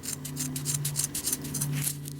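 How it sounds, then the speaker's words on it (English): Multitool scissors snipping through seatbelt-type webbing, a rapid series of crisp close-up cuts and rasping rubs repeating in quick rhythm over a low steady hum, with no speech. "Yeah, these are some high quality scissors."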